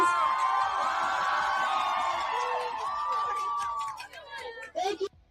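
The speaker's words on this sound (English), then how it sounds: "can we clap it up for our marshals?" A crowd at an anti-ICE protest march in Minneapolis cheers, whoops and claps for the marshals. The dense, sustained roar of voices fades after a few seconds into a few scattered shouts.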